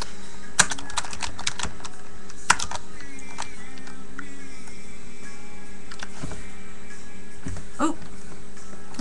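Fingers tap rapidly on a computer keyboard nearby in irregular bursts of clicks, over a steady electrical hum, with a dog briefly whimpering in the background.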